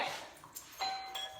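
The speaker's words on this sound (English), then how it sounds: "when somebody rings the doorbell" A doorbell rings indoors in a home with dogs, a few faint chimes spaced apart, thin and quiet against a near-silent room.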